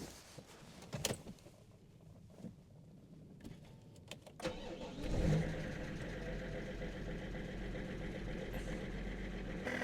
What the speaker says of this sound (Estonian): siit kuuleb seda vana head rida 6 mörgamist või diislilaginat